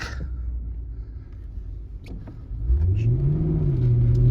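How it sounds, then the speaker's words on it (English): A 2009 Lexus LS 460L engine rumbles low, then revs up with a rising whine that climbs and levels off as the transmission slips, loud and close inside the vehicle. "the transmission is slipping"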